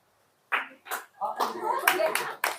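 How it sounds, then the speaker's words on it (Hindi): Students in a classroom clap in a few scattered, uneven bursts, close and moderately loud, mixed with some voices. "दोबारा बजा के लिए ताली।"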